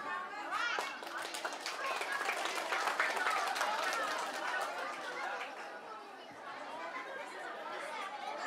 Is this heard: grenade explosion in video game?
no